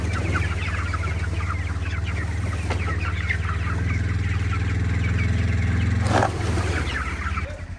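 Young chicks in a backyard chicken tractor peep and cluck steadily throughout, close by, over a constant low hum with a brief clatter near the end.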